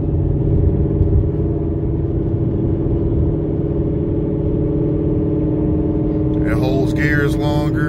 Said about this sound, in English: You can hear the exhaust note way louder now.